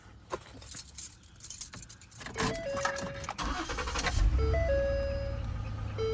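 Keys jangle and click, a chime rings, and then a 2014 Ford Taurus SHO cranks and fires into a deep, steady idle, close and loud with no talk.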